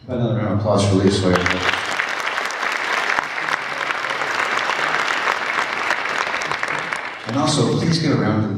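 Audience applause at a jazz camp concert, dense clapping that swells for several seconds with someone speaking over the start and end through a microphone.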